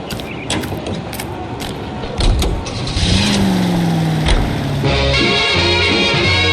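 A car engine in LA Noire starts up partway through after some clicks and mechanical creaks, then settles into a steady, loud drone with a rising tone as the car drives off.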